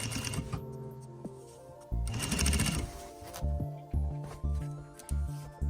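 A sewing machine stitches a zipper onto a throw pillow with self welt and Turkish corners, giving a fast run of needle strokes and then a string of separate, evenly spaced mechanical thumps, close up.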